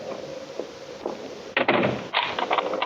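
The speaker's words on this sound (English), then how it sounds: "Would you mind standing here until you hear me lock my door?" A bedroom door closes and locks with a couple of firm knocks and clicks, followed by a short burst of wooden rattling, heard close against a low background hiss.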